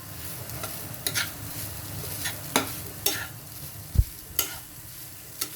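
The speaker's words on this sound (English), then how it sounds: "Add more oil on the top for the frying sizzle." Japanese fried rice sizzles and fries in oil in a pan while being stirred, a soft steady crackle broken by scraping and occasional clinks of the utensil against the pan.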